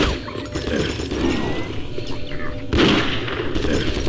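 Gunfire in the video game Doom 3, a continuous rattle of shots and crashing impacts with a louder burst near the end, dense and close throughout.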